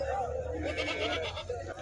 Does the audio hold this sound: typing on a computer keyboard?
no